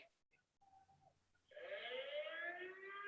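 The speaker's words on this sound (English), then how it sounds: "That was a siren" A siren swells in after a quiet start, its rising and falling wail filling the second half loudly and steadily.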